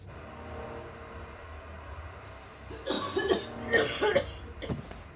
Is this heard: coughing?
yes